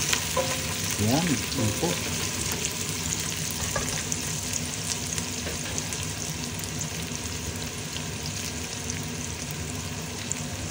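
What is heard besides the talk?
onions frying in a pan for pork dinuguan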